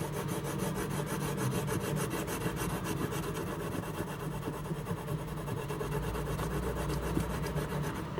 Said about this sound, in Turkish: Şimdi bunun içini çok ufak bir şekilde yani çok bastırmadan boyayacağım